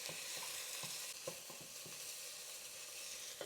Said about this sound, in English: So for the tomato paste, you just wanna mix it until it sticks to the bottom.